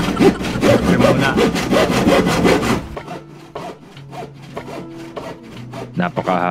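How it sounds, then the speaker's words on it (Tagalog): A hand saw cuts through wood in rapid, rhythmic strokes, loud and close for the first few seconds, then slower, softer strokes follow with a low tonal hum underneath. "Ready na tayo maglagari. Napakahirap nga lang pala ng lagariin ng garne."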